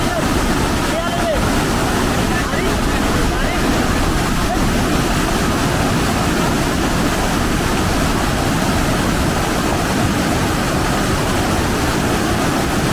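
Rushing mountain stream on the trek to Kundal Lakes in Kumrat valley, a loud, steady roar of fast water throughout with broadband wind-like noise.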